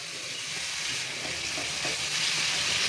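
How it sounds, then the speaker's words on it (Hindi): Tomatoes frying in a pan for a desi Hyderabadi-style chicken curry, giving a steady, even sizzle that holds at a constant level throughout, with no one talking. "अब इसमें ऐड करेंगे हम टमाटर। अब इसको बढ़िया से फ्राई करना।"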